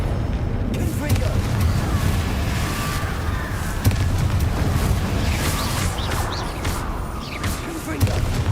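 In Hogwarts Legacy, a Confringo explosive blast spell goes off amid a dense, rumbling wash of continuous game effects; a voice speaks over the loud, steady din.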